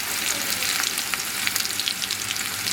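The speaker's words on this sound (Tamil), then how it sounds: "இப்போ வெங்காயத்தை போட்டு நல்லா இந்த பொன்னிறமாக வர்ற மாதிரி வெங்காயத்தை செய்யணும்" Onions frying in oil in a pan, cooked toward golden for a potato masala gravy, giving a dense, continuous close sizzle with small crackles and no talk.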